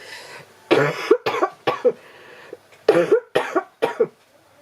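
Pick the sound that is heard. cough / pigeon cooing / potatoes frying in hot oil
cough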